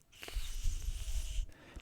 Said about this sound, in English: if you just put your tongue between your teeth like this, and then blow like